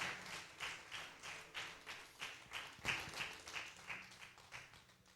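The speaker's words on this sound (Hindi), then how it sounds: "परमेश्वर के वचनों के लिए हम जोरदार ताली बजाएंगे" A church congregation claps in a steady rhythmic beat, about two claps per second, moderately loud and without talking.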